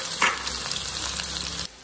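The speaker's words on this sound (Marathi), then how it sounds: "तेल तापलेलं आहे, त्याच्यामध्ये आपण आता थोडीशी राई आणि जिरे टाकून घेऊया। मस्त जिरे आपले राई फुललेली आहे, त्याच्यामध्ये आता आपण कांदा टाकून घेऊया।" Onion dropped into hot oil already crackling with mustard seeds and cumin, a loud, dense sizzle with stirring that cuts off abruptly near the end.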